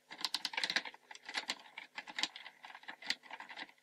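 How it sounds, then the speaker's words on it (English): Ratcheted shoulder joints on a Transformers Armada Jetfire toy give off rapid, close, quiet clicking in quick clusters, a dry patter of small plastic ratchet clicks with no talk. "He's got ratcheted joints in his shoulders, really strong, nice clicky ratchets."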